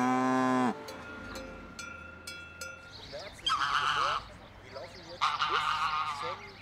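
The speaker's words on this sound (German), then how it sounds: "Das Gänsekreischen gilt dem Landwirtschaftsminister, ein Grüner, Christian Meyer." On a small farm in Lower Saxony, geese shriek and honk in loud, ragged bursts. The calls come after a brief low, moo-like call at the start, with quieter gaps between them.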